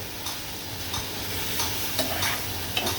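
Shrimp fried in oil in a pan give a steady, close sizzle, with light stirring scrapes now and then over the constant hiss. No one speaks.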